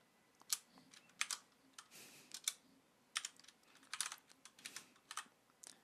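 Quiet, close typing on a computer keyboard, with irregular bursts of key clicks and short pauses in between, heard alone with no talking.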